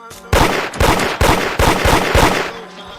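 Rapid Glock pistol gunfire in the Roblox game Da Hood: a loud burst of about eight close, sharp shots in quick uneven succession, each with a short echoing tail.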